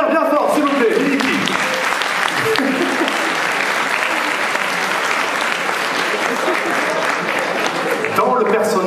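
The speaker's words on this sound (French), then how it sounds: "On peut l'applaudir bien fort, s'il vous plaît" A festival audience at a cosplay contest bursts into sustained, dense applause for a contestant on stage, steady clapping filling the hall for several seconds.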